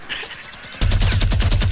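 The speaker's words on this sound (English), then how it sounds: "I'm getting my minigun out." Fortnite minigun firing, a rapid, loud stream of evenly spaced shots that starts abruptly partway through and runs unbroken to the end.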